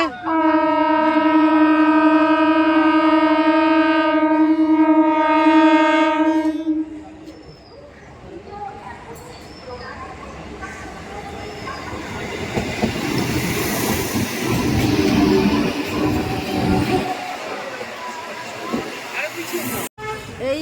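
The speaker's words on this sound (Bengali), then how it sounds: "ট্রেন আসছে" A train horn blares steadily for several seconds at a station near Belur, then the rumble and clatter of a passing train carries on with people talking nearby.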